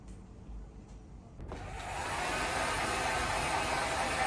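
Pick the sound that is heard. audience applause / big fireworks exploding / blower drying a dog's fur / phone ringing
blower drying a dog's fur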